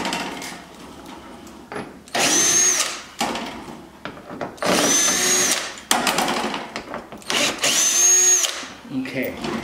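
A power drill boring holes in a C5 Corvette body panel during an aero kit install, several loud whirring bursts of a few seconds each separated by short pauses, close to the mic.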